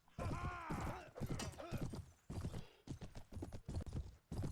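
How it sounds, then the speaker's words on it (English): Horse hooves clip-clop in a steady, close rhythm while riding through the Mount & Blade Warband Fall of Rome 476 AD mod, with brief vocal-like sounds mixed among the hoofbeats. "This is not the most maneuverable horse."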